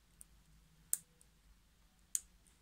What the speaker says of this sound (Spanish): presionamos la corona y en cuanto tengamos el clic, además del movimiento del segundero, significa que nuestro reloj empieza a trabajar de manera normal